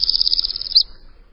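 A Northern Parula sings a rapid buzzy trill of high notes that rises at the end and cuts off sharply, close and clear over faint background.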